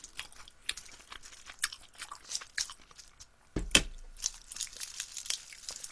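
Soy-marinated shrimp wrapped in seaweed is chewed close to the microphone: moist, crackly bites and crinkling, with one sharp loud crunch midway.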